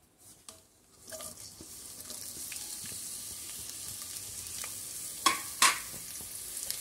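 Onions, ginger and curry leaves sizzle in hot oil with a steady hiss, brief stirring knocks, and two sharp bursts of crackling spatter near the end.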